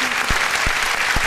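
Audience applause for a singer at a 2007 televised performance, a steady wash of clapping from a crowd, loud and continuous with a few low thumps.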